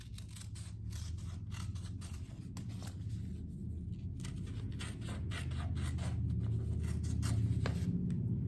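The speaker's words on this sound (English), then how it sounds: "here I'll just cut off this little bit over on the side" Scissors snip steadily through fabric trimmed from the edge of a fabric-covered decorated letter, a close, continuous run of crisp cutting and rubbing sounds with no talking.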